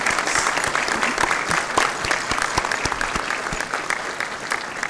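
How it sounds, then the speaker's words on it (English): Graduates at a West Virginia University at Parkersburg spring commencement give a big round of applause for family and friends, dense steady clapping from a large crowd in a hall that goes on throughout. "show your thanks to family and friends with a big round of applause"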